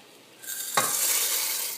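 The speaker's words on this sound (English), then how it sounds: "The bubbles bubble vigorously." Dry pasta goes into a pot of vigorously boiling water with a sudden rush and clatter, followed by a steady, loud hiss of bubbling.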